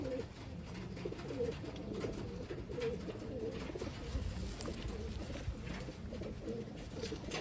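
Medium-sized pencil-coloured and blue bar checkered pigeons coo softly and steadily in a loft, low murmuring calls layered over one another at moderate distance with no speech.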